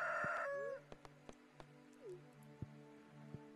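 A crow's harsh call in the Stardew Valley farming game, one loud cry at the start followed by soft, sparse game tones and plinks.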